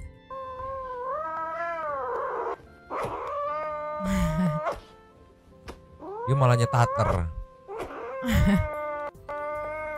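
A pet cat guarding its toy lets out drawn-out growls and moaning yowls, rising and falling at close range, while people talk over it.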